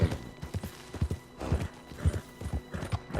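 Rhythmic clip-clop of horse hooves with snorting and a whinny in Red Dead Redemption 2, close and lively, repeating in bursts with no talking.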